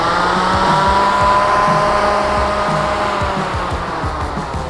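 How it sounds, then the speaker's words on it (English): Super Vac battery-powered fan running at a steady, loud, close whir with a constant tonal hum and a slight drop in level toward the end; no speech. "Go ahead and turn your fan on."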